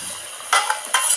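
Spices for a tempering hit hot oil in a pan, giving two short bright sizzling bursts over a quiet kitchen background, close and fairly loud.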